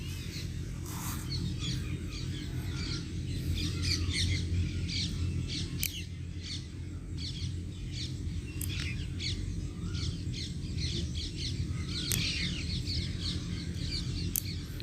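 Birds call repeatedly in an enclosure at Indira Gandhi Zoological Park in Vizag, sharp chirps and squawks scattered over a steady low background rumble, no one talking.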